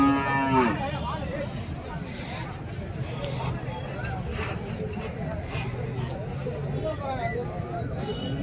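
Cattle and calves at a busy Madrapalli cattle market, with a clear moo near the start over steady crowd babble and nearby talk.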